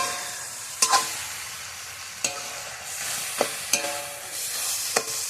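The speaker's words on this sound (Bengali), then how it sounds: "শিম শিম ভাজা করছি। শিম ভাজা দিয়ে চিংড়ি মাছ।" Flat beans and prawns fry in a pan in a village kitchen, with a steady close sizzle broken by several sharp scrapes of stirring at irregular intervals. No one speaks.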